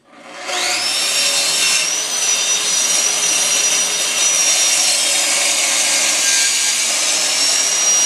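A Festool plunge saw cuts through wood, spinning up quickly and then holding a loud, steady high-pitched whine with a rough cutting rasp throughout, close and alone.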